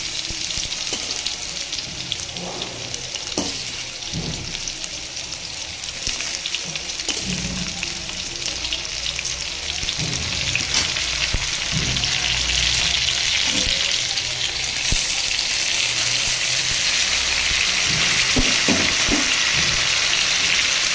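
Pumpkin and green beans fry in a pan, giving a steady close sizzle with occasional stirring clatters throughout, and no voices.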